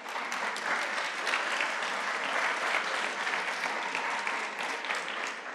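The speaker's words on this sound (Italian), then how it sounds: "non era per strapparvi un applauso di incoraggiamento" Audience applause at a Festival della Mente talk fills the hall, a dense, steady clapping from a large crowd that holds evenly throughout without a break.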